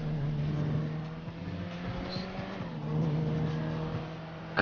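Car engine in GTA V droning steadily as the car drives, its pitch shifting slightly with throttle, moderately loud with no talk over it.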